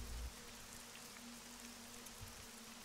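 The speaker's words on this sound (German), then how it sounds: "Ja, der Regen, der killt mich gerade so ein bisschen frames-mäßig." Rain pattering in the video game Arma 3 Breaking Point, a steady soft hiss with a faint low hum underneath and no voices.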